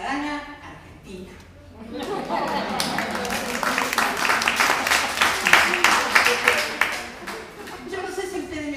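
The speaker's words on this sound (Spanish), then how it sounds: "Yo no sé si ustedes me aplauden por lo que hice o por el tiempo que tardé" An audience at a live comedy show breaks into applause that swells into steady clapping, mixed with a voice and scattered laughter.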